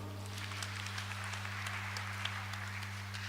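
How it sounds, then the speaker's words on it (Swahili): Church congregation clapping steadily at moderate distance, a diffuse patter over a constant low electrical hum, with no voices over it. "Tuwapigie makofi."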